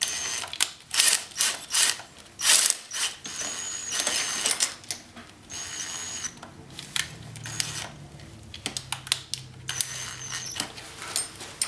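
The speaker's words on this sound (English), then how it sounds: "I'm just going to turn all the bolts in just a little bit." Metal clicks, ratcheting and small mechanical taps as bolts on a G2 competition rifle handguard are snugged in slightly, a close, busy run of sharp transients with no talking.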